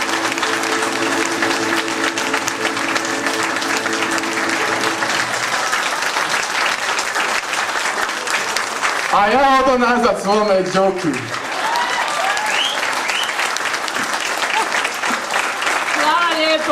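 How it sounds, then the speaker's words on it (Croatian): Sustained audience applause at a Bunjevac carnival evening gathering, dense clapping throughout, with someone speaking briefly over it midway. "Zato molim jedan aplauz za Dubravku Sudar."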